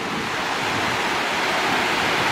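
A waterfall formed by a giant dam rushes with river water, a constant loud broadband roar that stays steady throughout with no voices.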